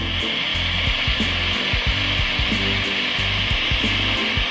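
Dremel VersaTip butane heat tool burning at a higher heat setting, a steady loud hiss and roar with faint rhythmic thumps and rubbing beneath.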